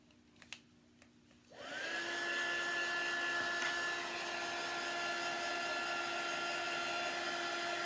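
Hair dryer switched on after a few quiet handling clicks, rising quickly to a steady, loud whooshing whine that holds evenly to the end, drying a freshly cleaned item.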